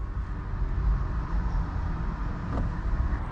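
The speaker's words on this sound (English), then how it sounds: "So right now, we are driving a Corvette" A 2025 Corvette C8 E-Ray rolls along in electric mode, with no engine note, only a steady low rumble of tire and road noise inside the cabin and a faint high whine.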